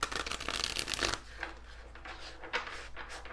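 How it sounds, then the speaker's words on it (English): Tarot cards are shuffled close to the microphone in soft, quick riffling bursts, busier at first and then thinning into lighter shuffles. "I'm shuffling live today."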